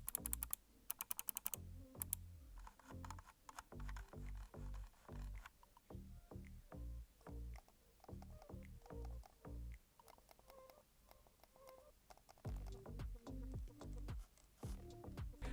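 Rapid, faint clicking from the buttons of a Mi Silent Mouse alongside a wired mouse, a close, dry run of small ticks in quick bursts, heard on its own without voices.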